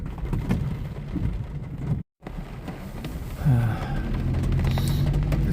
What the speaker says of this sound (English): Just driving through the rain, dealing with the rain, documenting, showing the rain.